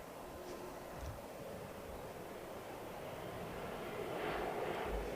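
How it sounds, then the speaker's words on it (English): A Boeing 737-8 airliner passes overhead near London Heathrow, a faint, distant broadband roar that swells slightly toward the end amid wind-like background noise. "737-8 overhead reaching London Heathrow 47 minutes"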